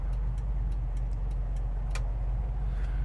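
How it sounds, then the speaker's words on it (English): Turn signal on a 1966 Ford Mustang fastback ticking at a steady, even pace over a low engine idle, crisp and close, with no talking. "Turn signals, driver's side,"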